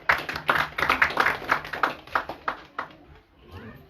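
An audience claps at a Krishna Janmashtami katha gathering: a short burst of close, uneven hand claps that thins out and fades toward the end.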